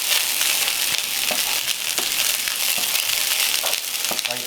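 Mushrooms sizzle and crackle steadily in a hot pan, a continuous close frying hiss with occasional sharper pops and stirring scrapes throughout.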